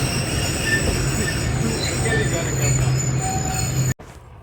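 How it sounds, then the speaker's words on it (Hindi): Hazara Express led by PHA 20 locomotive arriving: a loud, steady rumble of rolling wheels with squealing metallic overtones, close by, then a sudden cut to quieter ambience near the end. "तो दोस्तों ये आ रही है वो बदकिस्मत हज़ारा एक्सप्रेस"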